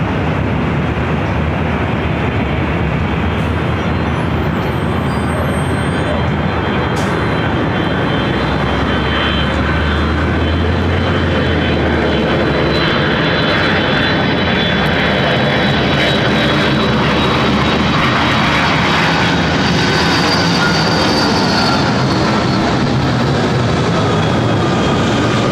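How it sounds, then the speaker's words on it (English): Delta Airlines Boeing 757-200 jet arriving at LAX from Boston, its engines producing a steady, loud, broadband roar that builds and sustains over the whole stretch, with no talking. "Our next arrival is Delta Airlines 321 coming in from Boston on the"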